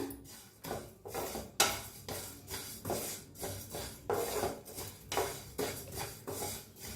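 Spices for a lime and chili pickle dry-roasting lightly in a pan, with a steady run of scraping, rubbing stirring strokes against the metal, close and moderately loud, with no talking.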